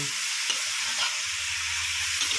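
Onion flowers stir-fried with squid in a hot pan give a steady, close sizzle with light scraping of stirring throughout, no voices.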